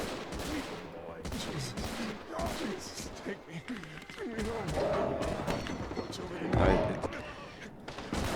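Gunfire in the video game Gates of Hell, as Soviet mechanised infantry charge US positions. Bursts of shots and thuds crackle throughout, layered over rumbling battle noise with voices mixed in.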